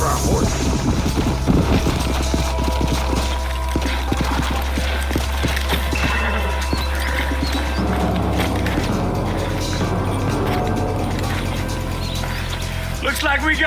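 Horse hooves clip-clop in a Western-style video game as riders pull up, a steady rhythmic clatter under constant game music and mechanical noise, with voices speaking over it.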